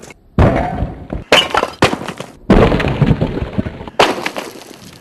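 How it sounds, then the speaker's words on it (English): A cinder block dropped from the top of a building shatters into sharp fragments, heard as several loud, abrupt breaking crashes and thuds in quick succession, each with a short gritty scatter of debris. "A great demonstration is to drop a cinder block from the top of a building"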